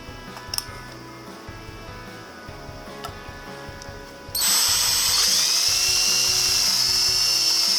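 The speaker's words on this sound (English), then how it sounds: "I'm going to take a 3/8 drill bit and I'm going to drill a 3/8 hole right in the center" A 3/8 drill bit bores a hole through the center of a metal can top for a DIY alcohol stove. After a few seconds of quiet ticking and handling, the drill suddenly kicks in with a loud, steady high-pitched whine that lasts to the end.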